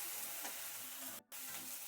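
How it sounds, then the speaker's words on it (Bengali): Onion frying in a pan for a Bengali rohu fish and pumpkin greens dish, giving a steady close sizzle with faint stirring that breaks off for a brief moment near the end, with no talking. "পেঁয়াজটা একটু ভেজে নিয়েছি"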